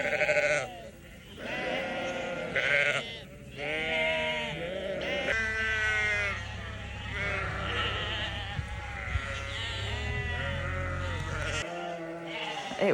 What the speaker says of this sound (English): It was the usual noisy, lambs making a lot of noise